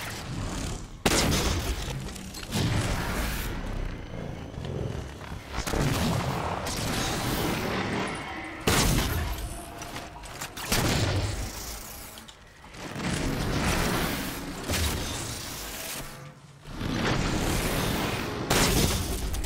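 Heavy, booming gunshots from Halo 4 in The Master Chief Collection on Xbox Series X, fired singly in bursts with short pauses between loud blasts.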